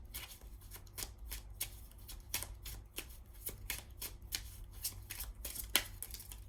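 Love Compass Oracle cards shuffled by hand, a quick, steady run of soft riffling flicks and slaps repeating close and fairly quietly with no talking.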